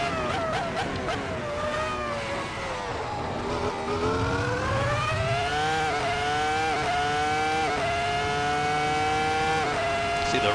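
Ferrari F2004 Formula One car in a racing video game, its engine a loud, continuous high-pitched whine that climbs through the revs with quick dips at each upshift, heard alone without talk.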